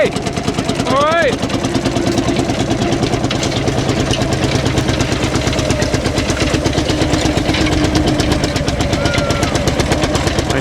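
A vintage tractor engine at a rally event runs steadily nearby, with a rapid, even popping beat throughout and a brief squeal early on.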